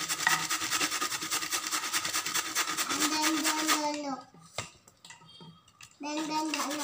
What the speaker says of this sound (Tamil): எல்லாத்தையுமே சீவிக்கலாம் அப்படியே.